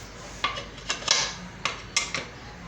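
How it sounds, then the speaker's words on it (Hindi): Metal clinks of a pressure cooker whistle weight being set on the lid while carrot halwa cooks, several short sharp clatters close by. "कुकर की सीटी हमने लगाना भूल गए थे, वो भी लगा रहे हैं।"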